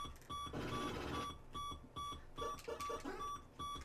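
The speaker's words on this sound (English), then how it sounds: "It sounds like an alarm." A shrill, repeating alarm-like beeping from an NES video game, steady electronic tones pulsing in short bursts at a moderate level with no talking.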